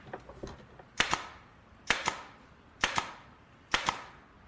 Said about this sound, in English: I think I'm gonna need the nail gun.